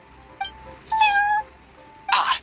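Prince, the cat at the Cat's Tail in Genshin Impact, meows several times close up: a short chirp, a longer drawn-out meow, then a brighter final cry, all with no talk.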